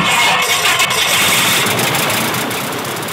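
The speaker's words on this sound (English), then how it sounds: "I always get the engine started before I put my seatbelts on." Piper Super Cub ski plane's engine just after starting, a steady broadband idle rumble with a faint rhythmic pulse, close and loud, easing slightly toward the end, with no voices.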